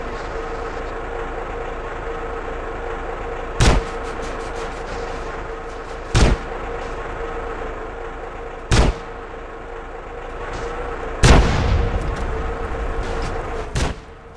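Sharp, loud gunshots ring out one at a time at spaced intervals from a car in GTA San Andreas, set against a steady engine drone and road rumble.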